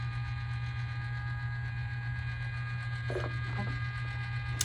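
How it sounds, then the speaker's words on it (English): A rock tumbler motor running at speed setting 11 hums steadily, a constant low tone and faint whirring, joined by a couple of brief clunks near the end. "Please excuse the noise. That's the motor running at,"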